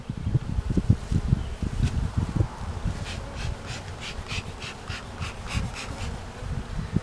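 Honeybees hum and buzz continuously around a hive box holding a queen cell, a low steady drone close by with brief rustling and handling noises mixed in.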